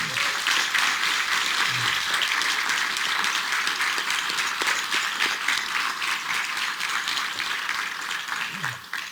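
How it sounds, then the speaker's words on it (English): An audience at a transit project event applauds Metro staff with sustained, dense clapping from many hands. It is close and even for the whole stretch, with a few brief voices underneath. "A round of applause for."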